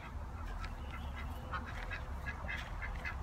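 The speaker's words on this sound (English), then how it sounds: "they're really dirty. The ducks are." Ducks quacking in a backyard coop alongside chickens, a steady cluster of overlapping quacks over constant low rumbling background noise, moderately close.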